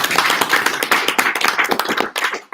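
Meetup audience applauding, a dense burst of many hands clapping close together that continues for a couple of seconds before tapering off.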